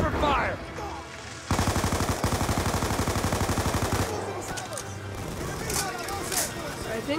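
Rapid machine-gun bursts and scattered gunshots crackle in a Black Ops 2 campaign battle, with one sustained rattling burst in the middle and shouted voices amid the combat.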